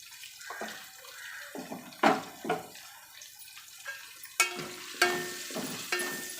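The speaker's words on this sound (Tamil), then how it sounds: "இப்போ நம்ம வெங்காயத்தை இதில் ஆட் பண்ணிக்கலாம். வெங்காயத்துக்கூட இந்த பச்சை மிளகாவையும் ஆட் பண்ணிக்கலாம்." Onions and green chillies hit a pan of hot oil for paneer biryani, giving a soft sizzle broken by splashy stirring scrapes and a few sharper clinks, fairly close and with no talking.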